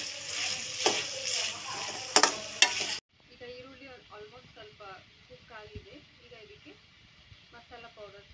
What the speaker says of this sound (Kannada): ಈಗ ಇದನ್ನ 1-2 ಮಿನಿಟ್ಸ್ ಈರುಳ್ಳಿ ಫ್ರೈ ಆಗೋದು